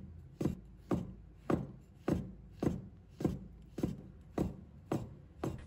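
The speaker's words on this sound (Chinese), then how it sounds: "接下来几个洗干净的香菇，把它切成薄片" A knife slices washed shiitake mushrooms into thin pieces on a cutting board, landing about ten crisp, evenly spaced chops with a steady rhythm, close and clear with no talking.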